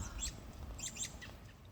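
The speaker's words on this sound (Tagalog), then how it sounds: "ayun po yung mga ibon no, sa puno" Several birds in a tree chirp and tweet in short, scattered bursts, faint and somewhat distant over a low rumbling background.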